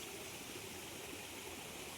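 A stream swollen and flooded after two days of rain rushes past in a dense, continuous wash of water, steady and moderately loud with no voices present.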